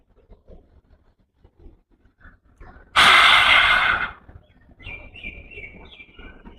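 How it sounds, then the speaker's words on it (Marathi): A single deep, forceful inhalation through the nose is taken during a yoga breathing exercise for stress relief. The close, loud breath lasts about a second amid quiet room sound, with soft bird chirps outside afterward. "श्वास आत"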